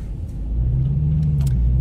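A Dodge Challenger with a six-speed manual gearbox pulls away at light, under-quarter throttle, its low engine rumble swelling steadily and holding a deep, even drone.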